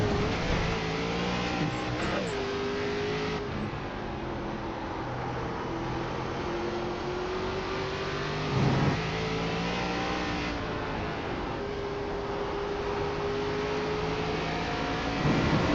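An ARCA race car engine at Lime Rock in iRacing holds a loud, steady high-revving drone with small pitch shifts as it shifts and accelerates, close and continuous with no talk.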